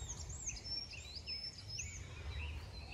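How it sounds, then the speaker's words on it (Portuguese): Small bird singing outdoors among young trees and overgrown brush, a continuous run of high, thin chirps and warbled phrases over a steady faint background hiss, fairly close and clear. "Tem um passarinho cantando bonito aqui."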